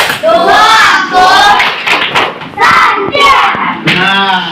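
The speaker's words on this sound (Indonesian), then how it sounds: "Mari semuanya kita tepuk tangan" An elementary school class claps together in an energetic, rhythmic chant, with loud children's voices shouting along in bursts over the clapping.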